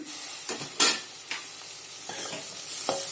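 Chicken pieces frying with salt in a hot pan, a steady soft sizzle broken by several sharp stirring scrapes and bursts of spattering oil, close and with no voices.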